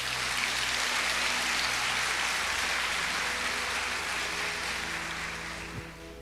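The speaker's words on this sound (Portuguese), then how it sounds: "Vamos aplaudir o Senhor." A church congregation applauding during a children's service, a broad, even wash of distant clapping that holds steady for several seconds before slowly thinning out, with no talk over it.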